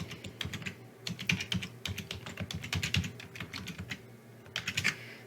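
Rapid, uneven keystrokes on a computer keyboard as a password is entered, a steady run of close, crisp clicks with brief pauses between bursts and no talking.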